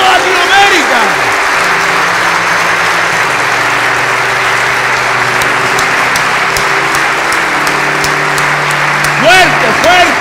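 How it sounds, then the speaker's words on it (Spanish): A church congregation at a Christian service applauds loudly and steadily for about ten seconds, with dense clapping over low sustained tones and a voice calling out briefly near the start and end. "Cuando digamos aplauso, aplaudamos hacia toda Latinoamérica."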